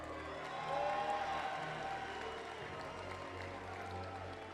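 Audience applause with crowd noise fills an esports arena at the Smite World Championship, a broad steady wash of clapping and murmur that swells slightly then holds at moderate level.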